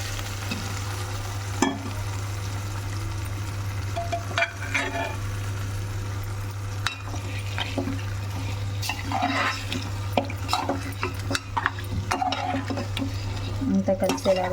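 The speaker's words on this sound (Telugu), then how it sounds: "అంతా కలిసేలాగా బాగా కలుపుకోండి." Boiled mutton is stirred into fried ginger-garlic paste in a pot, producing a soft, ongoing sizzle with intermittent spoon scrapes and clinks against the pan over a low steady hum.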